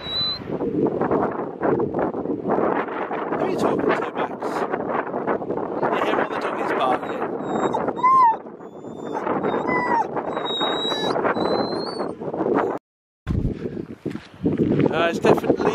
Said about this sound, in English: It's definitely breezy.